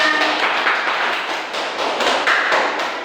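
A class of fourth-grade children claps hands in a classroom, a dense burst of quick, close taps that swells and thins in waves over about three seconds, with a few voices faintly underneath.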